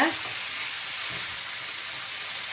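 Chicken spiced with salt fries in a pan while being stirred, a dense steady sizzle that fills the whole moment, opening with a brief scrape and no talking.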